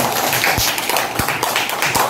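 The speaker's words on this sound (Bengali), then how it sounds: "ওর জন্য একটা জোরে করে হাততালি দাও।" A group of schoolchildren claps together for a classmate in a primary school lesson, loud, fairly steady rhythmic clapping with a few sharper taps standing out near the listener.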